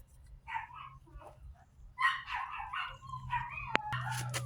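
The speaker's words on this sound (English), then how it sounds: "now the dogs are going to howl" Dogs bark and yip in short bursts, a few voices overlapping, moderately close, ending in a sharper high cry.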